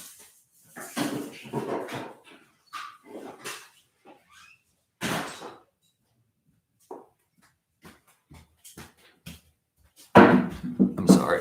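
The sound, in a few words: dog whimpering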